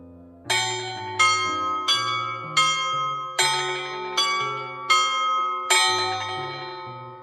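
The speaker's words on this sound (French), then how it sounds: "il y a 3 cloches que je vais vous faire sonner dans un instant." Three château bells ring in a slow repeating sequence of bright, resonant strikes, each tone sustaining and overlapping the next, close and clear with no talking.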